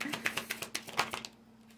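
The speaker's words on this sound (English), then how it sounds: "You can hear me shuffling" Quick, crisp clicks and riffling snaps of tarot cards being shuffled, close up, in an irregular burst that trails off into quiet.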